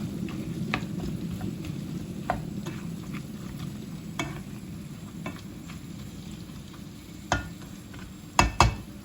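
Celery, leek and chickpeas being stirred in a pan, a steady low sizzle with a few sharp utensil scrapes and clinks, louder knocks near the end, no talking.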